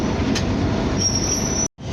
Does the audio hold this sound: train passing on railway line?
yes